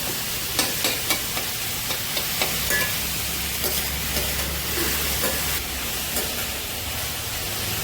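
Vegetables, with eggplant in the dish, are stirred and sautéed in a pan, giving a broad hissing sizzle and a run of soft rhythmic scraping knocks early on, steady and close with no voices.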